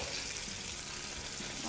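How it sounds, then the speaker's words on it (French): Cigar-shaped Moroccan shrimp briouates fry in hot oil, giving a dense, steady sizzle that is close and loud for a brief moment. "on peut lancer notre friture une fois que les cigares sont prêts"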